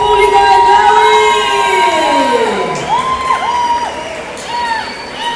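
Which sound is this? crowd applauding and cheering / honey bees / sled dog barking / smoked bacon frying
crowd applauding and cheering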